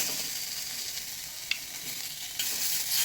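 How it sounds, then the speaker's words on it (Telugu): Prawns laid side by side on a hot, lightly oiled pan give a steady close sizzle with a sharp crackle partway through and a brighter surge of frying near the end. "హాట్గా ఉన్న ఈ ప్యాన్ మీద ప్రాన్స్ వేసుకోవాలి పక్క పక్కన"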